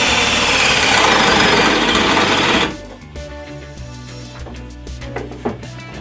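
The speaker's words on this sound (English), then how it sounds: "now it's time to drill the hole for the shaft." A power drill's loud, steady motor whine runs for a few seconds while drilling a hole for a shaft, then drops off, leaving a lower rumble with faint taps; close and mechanical.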